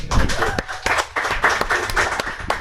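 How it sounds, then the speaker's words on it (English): An audience at a motivational speaking event claps in a short, uneven round of applause, individual claps audible and fairly close, with speech mixed in over the clapping. "And then we'll hold the round of applause for Mark."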